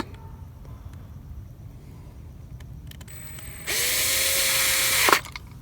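A power driver whirs for about a second and a half, driving screws into a part from a 1972 Chevy C10 short bed truck with a 454, preceded by faint clicks and handling noises in a quiet shop.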